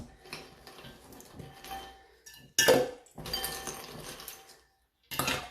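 Ice cubes clatter into a jug of tamarind and plum sharbat in a few quick bursts, rattling loudly against the sides, with quieter clinks in between.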